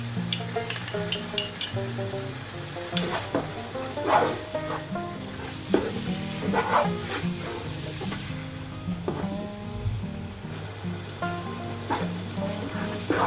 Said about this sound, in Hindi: मीडियम फ्लेम पर आप 7 से 8 मिनट तक चनों को अच्छे से भूनेंगे।